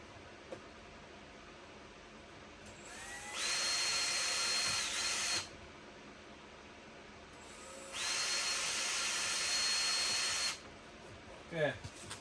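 A power drill bores pilot holes for a Polaris Ranger OEM side mirror, with two sustained whirring bursts of about two and five seconds separated by quiet. Each burst is close and steady, and a faint clatter follows the second.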